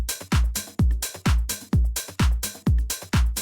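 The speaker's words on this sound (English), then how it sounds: "Now that we have our basic house pattern, it sounds like this." A basic house drum loop, loud and steady, with a punchy four-on-the-floor kick and hats or claps repeating in a tight, even pattern for several bars, no voices.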